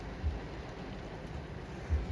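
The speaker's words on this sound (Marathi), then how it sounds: "खरंच पाऊस जोरातच आलेला आहे" Heavy rain pours down in a steady, dense hiss, with a couple of low thumps and no voices.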